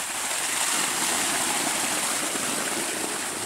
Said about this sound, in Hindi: देखिए प्रेशर वाला पानी, बहुत ही हाई प्रेशर वाट, ज़बरदस्त